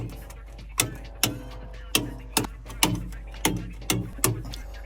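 Switches and controls clicked one after another inside a T-72 tank cabin, about ten sharp mechanical clicks and clunks at irregular intervals over a low steady hum.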